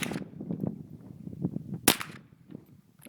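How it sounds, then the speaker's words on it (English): A single sharp crack from an AR-15 rifle stands out over steady background noise and soft thumps, close to the microphone, with a quieter pop following shortly after. "Let's try a couple shots."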